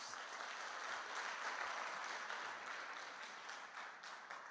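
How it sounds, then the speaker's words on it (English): An audience of youth and students at a Gauteng consultation meeting applauds in a steady, dense wash of clapping that fades slightly toward the end. "Can you clap your hands for yourselves?"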